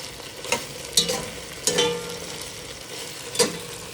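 Cooking oil sizzles and crackles in a pan while chicken is browned for tinola, with a steady fry beneath several sharper bursts as the pieces are stirred and moved.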